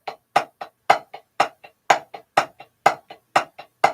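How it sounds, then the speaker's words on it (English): A drum double stroke played on a practice pad with the accent on the first note, repeating as a steady pattern of loud-soft paired taps, close and dry, with no talking. "What you don't want is a double stroke that sounds like this"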